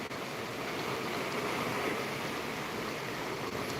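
Broadband rushing of the Sutlej river flowing below a bridge, with its water level dropped about five feet, a steady wash with no talk and no breaks.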